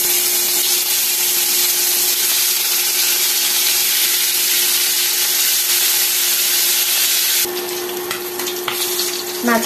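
Koi fish sizzle in hot oil in a wok, a steady, bright hiss of frying that runs throughout and shifts slightly near the end.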